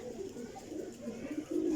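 Pigeon cooing in a loft of bone-set show pigeons, soft repeated low coos close by, growing louder toward the end, with faint voices in the background.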